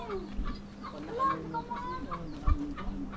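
Chickens cluck at a farm in Ilocos Sur in the Philippines, a few soft, scattered calls standing out over a steady low hum, with one brief louder thump late on.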